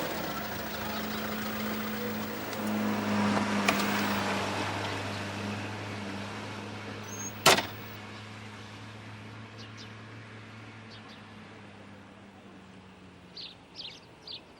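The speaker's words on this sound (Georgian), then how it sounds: "ისევ ეს მანქანა გამოგატანე?" A car engine with carburetor trouble idles in a steady low hum, fading slowly toward the end, broken by one sharp click midway and a few faint bird chirps late on.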